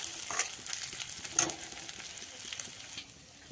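Water hits hot spiced oil in a Bengali fish curry pan and sets off a steady, loud, close sizzle with crackling bursts that fades a little toward the end.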